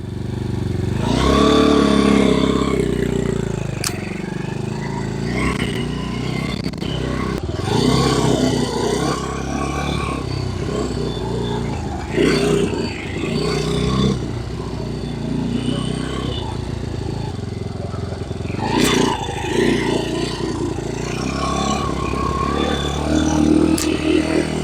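Freshly assembled motorcycle running and being ridden nearby, a continuous engine drone with a few revs and mechanical clatter, fairly loud and steady throughout, with some talk mixed in.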